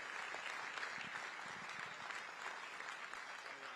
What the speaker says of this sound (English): Let's give Governor Hutchinson a big round of applause as he comes on stage